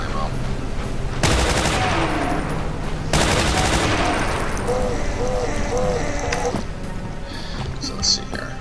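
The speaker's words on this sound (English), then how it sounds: "heavy machine guns do use rifle ammo" Heavy machine gun fire in Brutal Doom, with two long sustained bursts of rapid shots, loud and close, followed by quieter game sounds as a voice talks over the action.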